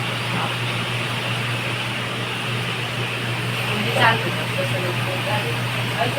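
A steady, droning whir of an air cooler runs without pause, with a low constant hum beneath it.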